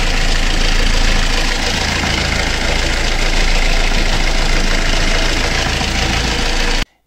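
A sailboat's inboard engine runs steadily while leaking oil, a continuous low rumbling drone alone at close range, cutting off abruptly at the end.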